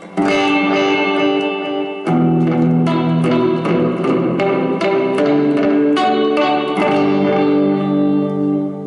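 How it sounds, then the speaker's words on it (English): Electric guitar played through a Boss RV-6 reverb pedal set to its delay mode, loud sustained chords and picked notes ringing out with repeating echoes and a long reverberant tail, no voices. "You can go even all the way to delay"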